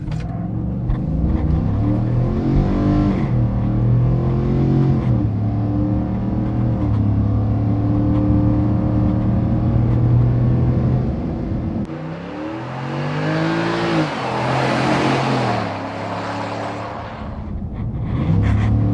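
A 2021 Ford F-150 pickup's 5.0 V8 with 10-speed automatic revs and accelerates hard from a stop, its deep rising and falling harmonics filling the clip, with a burst of roaring intake and exhaust noise near the end.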